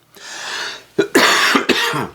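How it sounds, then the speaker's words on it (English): A person with a chest cold coughs several times up close: a long raspy hack, then a cluster of three sharp, harsh coughs in quick succession. "I just can't shake this cough, this whole chest cold thing."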